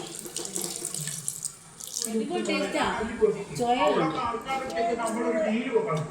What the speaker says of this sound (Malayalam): നമുക്ക് ഇത്തിരി ഒരു പൊടിക്ക് വെള്ളം ഒഴിച്ചു കൊടുക്കാം